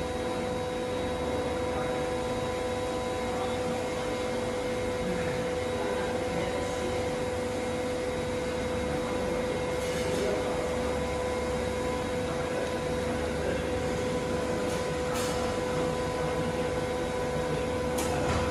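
MD 60L RF vacuum plasma cleaner running its cycle: a steady, loud electrical hum and whine with constant broadband hiss and pump noise, unchanging throughout.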